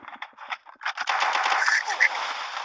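Rapid automatic gunfire in a 2 vs 2 online shooter match, sustained bursts over the last two seconds after scattered shorter shots, loud and continuous.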